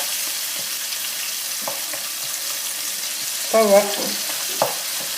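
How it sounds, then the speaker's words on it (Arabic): Tomatoes frying in a pan, a steady soft sizzle running throughout, with a short stirring scrape and clatter near the end and a brief word spoken over it. "رجعت للطماطم كما تشوفوا صافا الطماطم تقليت"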